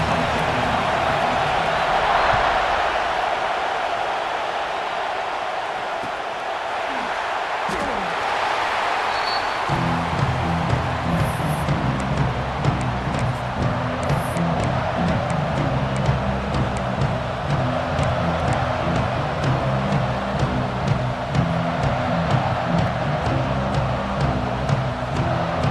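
Stadium crowd noise in EA Sports College Football 26, a broad steady roar that swells, then turns into rhythmic chanting and drumming from the stands, with a commentator talking over it.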